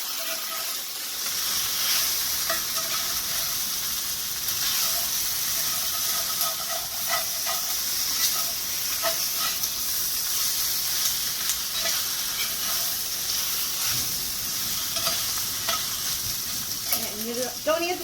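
Leftover pasta frying and browning in a pan, with a continuous loud sizzle and hiss throughout, occasional stirring scrapes, and heavy rain audible in the background.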